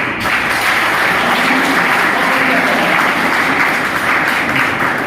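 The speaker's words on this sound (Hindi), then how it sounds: "एक बार उनके बच्चे के लिए ताली बजाइए" Audience applause at a Brahma Kumaris motivational gathering, a loud, dense and steady clapping that holds evenly for about five seconds.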